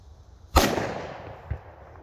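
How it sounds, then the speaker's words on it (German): A class B firecracker goes off with one loud, sharp bang outdoors, followed by a fading crackle and a second, fainter pop about a second later. "Also für B-Böller sind die sehr stark."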